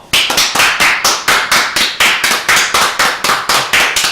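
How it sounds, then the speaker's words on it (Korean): A Korean comic medical talk-show studio audience claps in brisk unison, loud, even beats about three per second, sustained without pause and with no voices over it. "자, 박수!"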